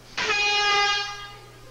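At an awards gala, a single loud air horn blast signals that time is up, a bright, brassy tone held for about a second before it fades, over a low steady hum.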